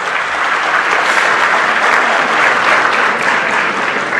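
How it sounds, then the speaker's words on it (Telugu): A crowd clapping loudly for teachers, sustained dense applause at full strength throughout, close and unbroken. "గట్టిగా చప్పట్లు కొట్టాలండి"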